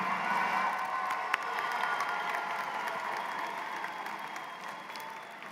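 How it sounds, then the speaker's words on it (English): Sustained applause from a ceremony audience fills a large hall at a doctoral and postgraduate graduation, steady dense clapping with faint cheers mixed in, holding at an even level throughout. "give them a big round of applause to them"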